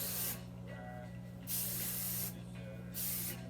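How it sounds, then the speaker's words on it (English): Hairspray is sprayed through freshly curled hair in three close, steady hissing bursts, each about a second long, with brief pauses between them. "I'm gonna take my air control, spray it all through my hair."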